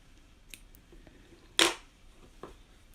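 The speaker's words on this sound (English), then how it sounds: "so I'm just going to cut it off." A single sharp snip of scissors cutting through crochet yarn stands out as a loud, brief burst, with a couple of faint clicks before and a smaller snip after, set against a quiet room.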